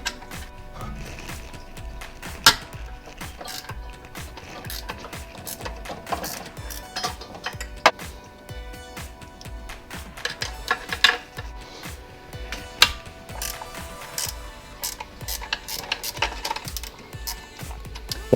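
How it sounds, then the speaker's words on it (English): Two half-inch spanners click and clink against alternator bracket bolts on a 1974 Leyland Mini, sharp irregular metallic ticks and taps close up over a quiet background, with no talking. "get yourself 2 half-inch spanners and we're going to loosen off the alternator bracket"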